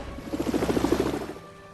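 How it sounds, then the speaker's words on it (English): A news helicopter in the video game Lego Batman 2: DC Super Heroes gives a brief, close whirring chop of rotor blades that swells and fades over under two seconds. "And here it is, the news helicopter."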